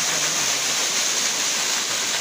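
Math Ghoghra waterfall near Lakhnadon, Seoni, with water pouring onto rocks beside caves, makes a steady, dense roar of falling water. The rushing hiss holds even and continuous from start to end, with no voices.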